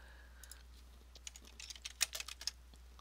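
Keys clatter on a computer keyboard in a brief, quiet burst of typing that grows denser toward the end, close by in a quiet room with no talking.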